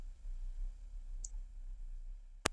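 A single sharp computer mouse click near the end of the clip, after a faint earlier tick, over a quiet low background hum.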